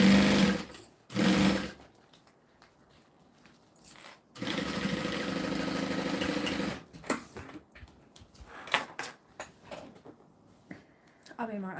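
A sewing machine stitches fabric in several separate runs, the longest a steady loud whir of about two and a half seconds, with shorter bursts and pauses between them and a voice speaking briefly near the start.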